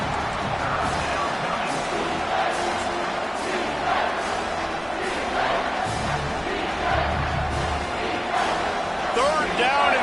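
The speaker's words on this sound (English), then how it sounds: "this crowd will blow out a vocal cord to help this defense" A football stadium crowd roars steadily on third down, a dense, loud wall of cheering and noise that holds for the whole stretch, with faint voices audible within it.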